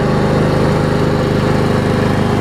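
A Snapper push mower with a Honda engine runs close by, slightly smoking as oil burns off in the muffler, a loud, steady chugging drone without pause.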